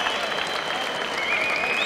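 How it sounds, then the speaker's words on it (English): At a Copa Podio jiu-jitsu season finale in Rio de Janeiro, a crowd applauds and cheers in a continuous wash of clapping after a submission finish, with a voice talking over it. "The crowd goes wild."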